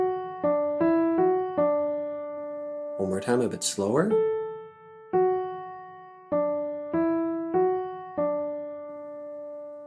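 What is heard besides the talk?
major pentascale ear-test melody so mi do re mi do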